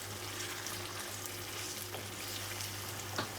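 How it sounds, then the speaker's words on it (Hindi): Mutton masala frying on full flame in a pan, giving a steady, close sizzle with soft stirring sounds throughout and no talking. "फुल फ्लेम कर दिया मैंने और इसे जल्दी जल्दी से भून लेती हूँ"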